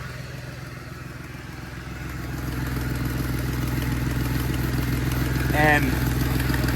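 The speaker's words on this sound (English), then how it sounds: "it sounds like some sort of exhaust" A Ford Mustang engine runs steadily with a suspected exhaust leak, a low droning idle that rises in revs and loudness partway through, with a brief voice heard near the end.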